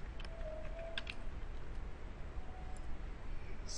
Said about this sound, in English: So I would type here Philippines.